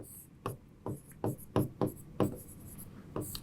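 A teacher writes on a board during a chemistry lesson, making about eight evenly spaced taps and scrapes of chalk, close and moderately loud over a quiet room with faint voice in the background.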